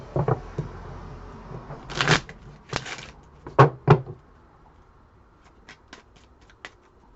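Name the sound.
shuffling tarot cards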